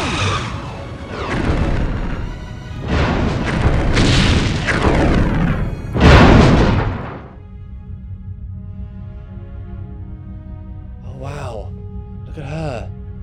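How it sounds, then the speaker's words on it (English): Klingon weapons fire in a Star Trek fan film, heavy booming explosions that rumble and swell for several seconds, then fade into a low hum with brief warbling electronic blips. "The Klingons are opening fire."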